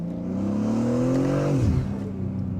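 A Manhart MH3 650 BMW M3 Touring tuned to 650 hp pulls hard with a rising, steady engine drone, then drops off sharply with a brief rushing whoosh as the blow-off valve vents, heard from inside the car.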